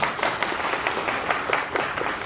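An audience at a crypto talk breaks into a short, even round of clapping, a continuous moderate patter of many hands heard fairly close with no voices over it.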